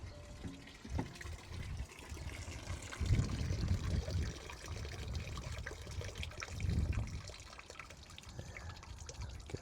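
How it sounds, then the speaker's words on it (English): Water drains from a sink in a truck camper, a continuous close gurgling trickle that swells into louder glugging surges twice before easing off. "Just turn the tap off in here because let's let the sink empty."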